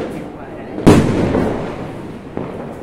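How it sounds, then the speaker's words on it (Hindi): Diwali firecrackers go off outdoors: one sharp, loud bang followed by a long crackling decay, then a second smaller pop, with people's voices in the background. "पटाखे जलाने वाले हैं"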